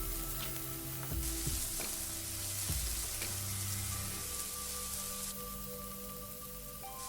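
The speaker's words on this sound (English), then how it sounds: "Saute the onions for a while." Finely chopped onion sautéing in hot oil with cumin seeds and dry red chilli, a loud continuous sizzle with a few scraping knocks of a utensil in the first few seconds, no talking.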